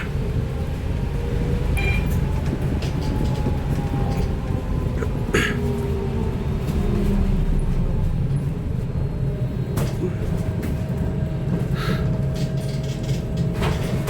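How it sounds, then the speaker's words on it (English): A retrofitted electric bus rumbles noisily on the move, a constant low roar broken by brief squeaks, rattles and thin whines from the vehicle. "I'm wondering why is this bus making all that awful noise."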